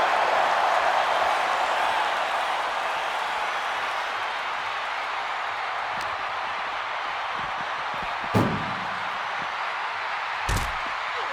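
In WWE 2K25, a wrestler slams face first into the ring post, giving a sharp thud over a steady arena crowd roar, followed by a second impact a couple of seconds later.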